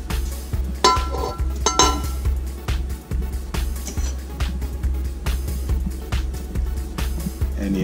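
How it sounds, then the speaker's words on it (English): A knife cuts open a burger cooked in an Oyama Turbo oven. Metallic clinks and scraping taps sound close against a steady low hum, with no talking. "Let me get a little knife and let's cut one open and see what it looks like."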